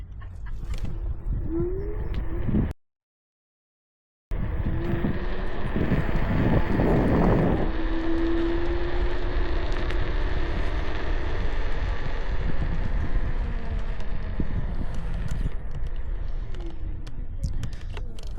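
Strong wind buffets the microphone during a ride on a KuKirin G2 electric scooter in eco mode, a continuous loud rushing roar with a brief silent gap, plus faint whining tones underneath.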